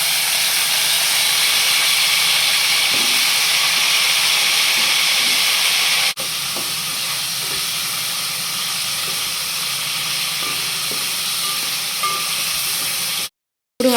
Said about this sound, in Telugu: ఈ ఆయిల్ వేడైనాక ఈ వంకాయలని ఇందులో వేసుకొని ఫ్రై చేసుకోవాలి.